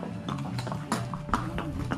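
Horse hooves clip-clop in an irregular series of sharp, close knocks during a test ride before purchase, over a low background hum.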